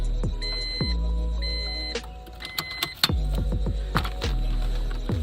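A car's electric fuel pump primes after a fuel filter change as the key is cycled a few times. It gives a close, steady hum broken by sharp clicks and relay ticks between cycles.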